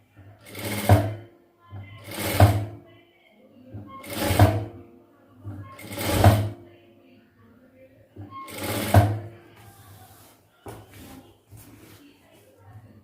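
Sewing machine stitching chudidhar cloth in short repeated bursts of about a second each, five runs spaced roughly two seconds apart, close and clear with quiet gaps between them.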